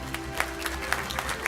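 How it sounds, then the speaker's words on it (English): Applause from an audience at a football touchdown club awards banquet, a brief burst of many hands clapping at moderate distance with crowd murmur beneath. "another big round of applause for your 2018 college MVPs"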